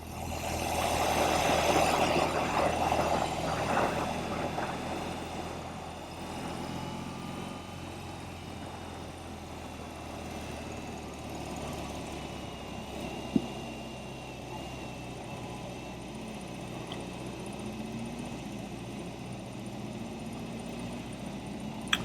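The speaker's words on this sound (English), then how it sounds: "I'm actually getting more engine noise than exhaust noise right now" A BMW R18 boxer cruiser motorcycle engine under way in second gear makes a low, steady mechanical drone mixed with wind rush, slightly louder at first and then even and moderate, with a couple of faint clicks and no talking.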